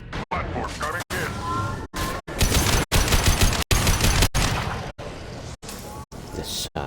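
Booming bursts of gunfire from a heavy gun in Mass Effect 2, loud and close, in rapid repeated volleys broken by brief silent gaps.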